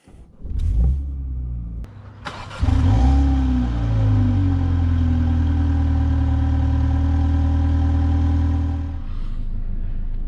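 A Mini Clubman F54 engine cranks briefly, catches and fires up with a loud rev, then settles into a steady, close rumbling idle that continues to the end, with no talking.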